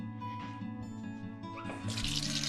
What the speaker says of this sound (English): Get some water in there, soap, dish soap.